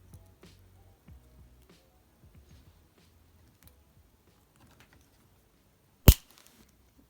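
Wire cutters snip off the curled end of a wire while making a paper fidget spinner: one sharp, close snap after several seconds of near silence and faint handling rustles.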